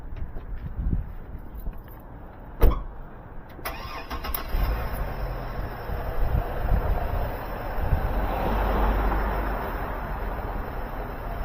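A GMC Envoy's engine starts with a sharp click and catch, then settles into a steady mid-pitched idle and gentle revving as the SUV reverses into a packed car lot, close by with no talk.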